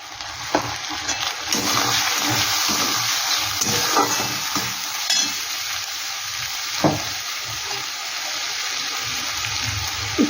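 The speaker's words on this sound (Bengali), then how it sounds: "বাটিটা ধুয়ে একটু জল দিয়ে দিচ্ছি" Water from a rinsed bowl splashes into Gurjali fish masala frying in oil, producing a constant sizzle with brief splashy bursts and stirring knocks, with no speech.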